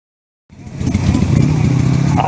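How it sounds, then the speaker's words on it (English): Vintage Kawasaki 120 TR motorcycle at a Japanese bike meet, its small engine starting up and running steadily with a buzzy idle, close and loud throughout. "I've never even heard of this bike before. The 120 Kawasaki TR."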